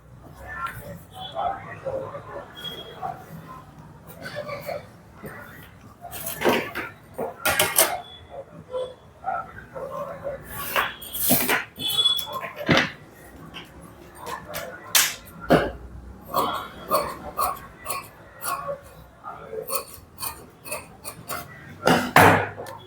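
Scissors snip through blouse fabric in a boutique-style tailoring session, giving repeated sharp clicks and crisp cuts in irregular bursts while a person talks at intervals.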